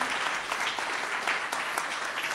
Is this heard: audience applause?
yes